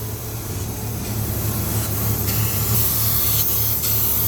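A Mazda B2000 performance camshaft being ground on a grinding wheel: a continuous harsh grinding hiss with a low steady hum beneath, loud and close, faintly pulsing as the wheel skips now and then.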